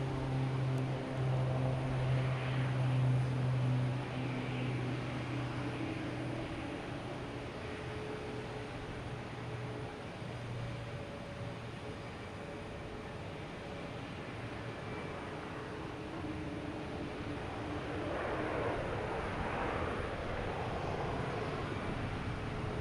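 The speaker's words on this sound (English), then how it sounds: "We have a Cape Air heading to Bar Harbor. Taking off on 4 left." A Cape Air propeller plane takes off from runway 4 left at Boston Logan Airport, its engine drone a steady, fairly distant roar that holds for over twenty seconds with a slight swell near the end.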